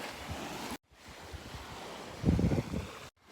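Ocean waves wash onto a beach during an evening walk, a soft continuous surf with one louder swell near the end and light wind buffeting the microphone.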